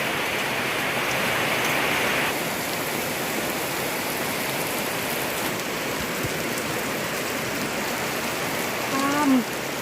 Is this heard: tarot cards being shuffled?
no